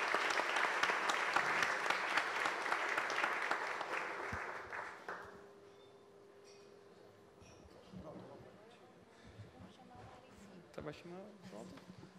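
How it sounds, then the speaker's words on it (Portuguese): Applause from an audience at a talk or presentation: dense, loud clapping for about five seconds that fades out, leaving quieter room sounds and scattered voices. "Eu queria só pedir uma salva de palmas para o Vitor"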